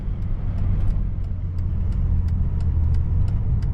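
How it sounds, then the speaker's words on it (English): A 2009 Dodge Charger SRT8 with aftermarket exhaust and mid mufflers drones steadily with a low rumbling exhaust note, building slightly as it pulls away from a stop, with no voices. "I thought maybe the mid mufflers would just give it a cleaner sound without too much drone"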